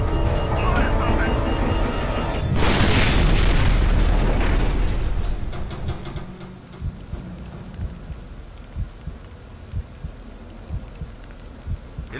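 A helicopter crashes in the shooter game F.E.A.R., with a loud, sustained roaring rumble and crash that fades after about six seconds, followed by quieter scattered crackles and debris ticks.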